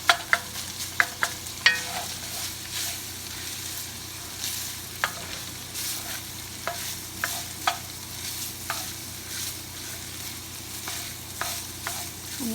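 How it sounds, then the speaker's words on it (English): Ingredients for Zuppa Toscana brown in a pan with a soft, steady sizzle. A spoon stirs and taps against the pan, giving evenly spaced clicks and scrapes. "I'm just going to brown those for a little bit."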